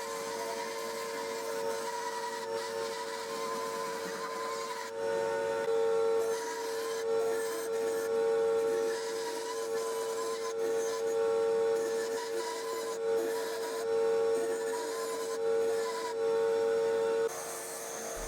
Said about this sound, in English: I roughly cut out the circles on the bandsaw.